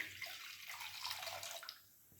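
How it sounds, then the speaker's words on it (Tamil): Water pours into a heavy cooking pan in a home kitchen, a close, continuous splashing gush that eases off and fades to a quieter trickle near the end. "ஒரு கனமான சட்டியை எடுத்துங்க அதில் தண்ணி ஊற்றிக்கங்க"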